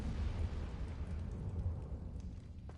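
A Confringo spell bursting in Hogwarts Legacy, a dense rumbling blast that sustains loudly throughout with a deep low roar, with no voices.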